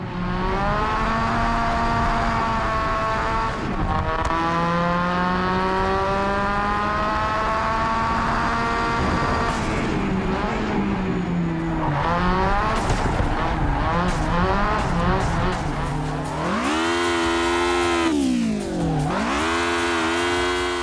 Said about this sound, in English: you can still do some fun drifting in this game